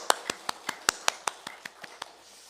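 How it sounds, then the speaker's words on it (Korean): At a Korean church Sunday worship service, about a dozen crisp, evenly spaced hand claps ring out in a quick steady rhythm, sharp and close, slowing slightly toward the end. "하나님께 영광의 박수 올려드리겠습니다."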